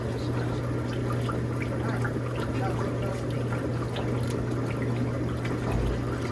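Steady rushing water pours continuously into the tub of a Philco solid-tub washing machine, a constant broadband wash with a low hum underneath and no break for the whole stretch.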